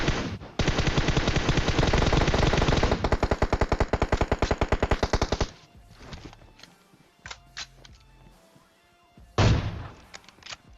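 Gunfire in the video game PUBG starts as a long, loud, rapid burst of shots, then thins into scattered single reports and a final sharp blast.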